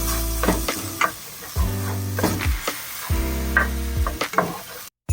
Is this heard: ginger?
yes